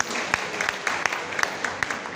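An audience claps in a burst of scattered applause at a motivational talk, with sharp irregular hand claps filling the room at moderate loudness.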